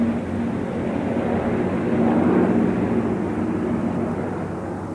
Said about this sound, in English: Lovely to see all these old planes.